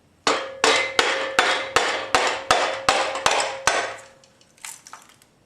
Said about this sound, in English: take a rubber mallet and tap on the wheel here and break the RTV loose